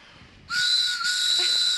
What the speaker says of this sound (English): our little choo-choo whistle